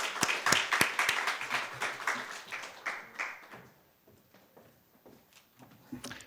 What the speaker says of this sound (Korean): 박수로 우리 한번 힘차게 환영하겠습니다